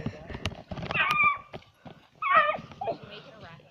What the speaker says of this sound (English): I'm going to film my dogs playing